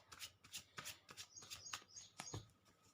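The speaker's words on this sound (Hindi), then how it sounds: "अभी मेरी शफलिंग पूरी नहीं हुई है" Tarot cards being shuffled by hand, a quiet, continuous riffle of soft card-on-card flicks with brief high chirps, close and alone with no talking.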